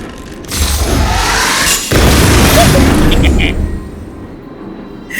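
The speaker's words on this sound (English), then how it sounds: "We wiped them all out in a single explosion!" A loud, sustained blast rumbles from the Honkai Star Rail video game, a heavy boom that holds for a few seconds, then fades into a softer tail with a few faint tones.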